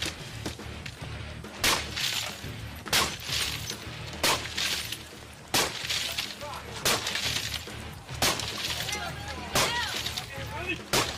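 Hardened glass windows are struck and broken repeatedly, about a dozen sharp shattering impacts at fairly regular intervals, each a bright crack with thuds between, fairly close and loud.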